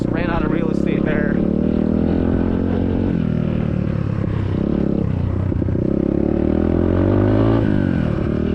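An SSR 150cc dirt bike engine pulls hard through the gears on a top-speed run, a loud, sustained roar close by that rises and dips as it shifts, with wind noise mixed in.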